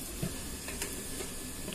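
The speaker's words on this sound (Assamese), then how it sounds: "মাছ তিনিটুকু মই ফ্ৰাই কৰিম" Three pieces of fish frying in a pan, a steady close sizzle running the whole time with a few light pops and clinks, no talking.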